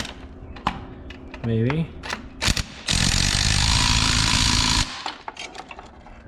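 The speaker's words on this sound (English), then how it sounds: "Now we just got to get up in here and tighten these bolts" A power tool tightens engine mount bolts during a supercharged 3800 engine swap into a Pontiac 6000 wagon, with a sustained loud two-second burst of whirring and rattling among clanks and a short whine, and a voice speaks briefly.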